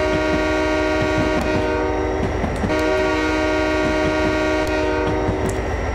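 An SD40-2 diesel locomotive in Train Simulator sounds a loud, sustained multi-tone horn blast that runs the whole length over a low engine rumble, with a couple of brief clanks.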